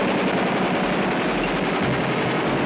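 Rapid gunfire crackles in a chase scene from a 1969 exploitation film trailer, a dense, continuous burst of shots over a low rumble with no voices.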